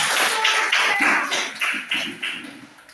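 A class of students claps hands together in a classroom, a dense burst of overlapping claps that thins into a few scattered, irregular claps and fades out.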